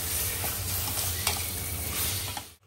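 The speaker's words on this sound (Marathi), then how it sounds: "झणझणीत अगदी फोडणी दिल्या" Spice tempering (phodni) sizzles steadily in a pan for a Malvani fish curry, with stirring scrapes over a constant hiss that cuts off abruptly at the end.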